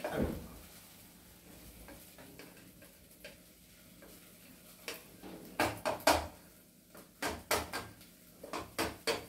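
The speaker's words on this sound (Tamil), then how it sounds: "ஆனால் நான் மெதுவாக தான் உள்ளுக்குள்ள கிளறேன்" Rice pulav with fruits and nuts being stirred slowly in a pot, a spoon scraping and knocking against the metal in irregular clinks that grow louder and more frequent toward the end, with a soft sizzle of ghee beneath.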